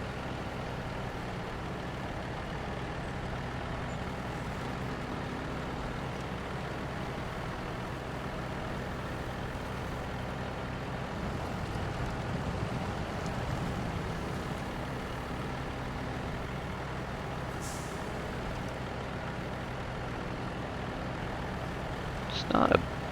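A truck engine drives in the off-road game SnowRunner, a steady low mechanical drone rumbling continuously throughout with a brief sharper noise near the end.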